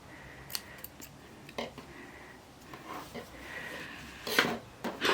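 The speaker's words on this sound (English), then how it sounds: "So now we're just going to cut that off." Scissors snip through crochet yarn at the end of a vest shoulder seam, giving a few soft, close cuts and light rubbing sounds amid quiet handling.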